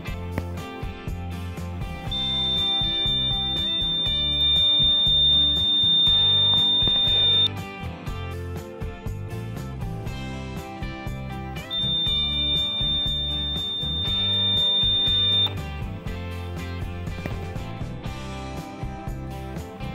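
Homemade laser security alarm sounding during a test: two long, steady high-pitched beeping tones, each lasting several seconds, over loud background music.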